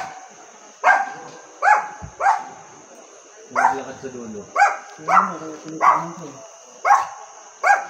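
A dog barks repeatedly in sharp, evenly spaced bursts, fairly close, with a steady high hum in the background and a brief voice speaking.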